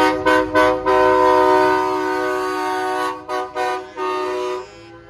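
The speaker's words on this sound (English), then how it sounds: "That's proper train horn right there." A loud, sustained multi-tone train horn on a truck at a truck show light parade blasts, broken by several short toots at the start and again near the end, with no talk.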